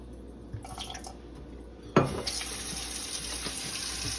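Running tap water rinses raw vegan food after a vinegar-water dip, a steady broadband flow starting abruptly partway through and continuing loud and close, with faint clinks before it.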